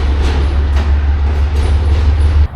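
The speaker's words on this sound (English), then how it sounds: "They are connecting the auto trains now." Auto train rail cars being coupled in a rail yard: a steady, loud low rumble of idling locomotive and rolling stock with faint metallic clanks above, ending in an abrupt drop near the end.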